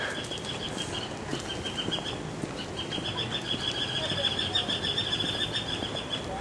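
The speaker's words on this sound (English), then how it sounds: "some of the chirping birds that we experience almost non-stop here" Faint, high bird chirps repeat steadily over a constant outdoor background hiss, distant and continuous throughout.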